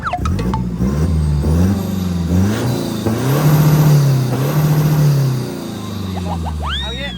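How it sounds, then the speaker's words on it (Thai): A modified high-power van engine revs repeatedly in loud, rising and falling sweeps, close and dominant, then settles toward a steadier note. "เบิ้ลดูไปดูเสียงเบิ้ลด้วย"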